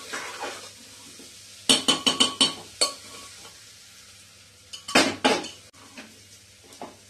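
Peas dal being stirred in a pressure cooker pot, with loud clustered metallic scrapes and clinks of a spoon against the pot in two bursts over a faint sizzle.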